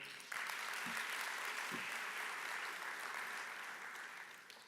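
A business conference audience applauds in a hall, the clapping starting suddenly and holding steady before gradually tapering, with a couple of low thumps early on.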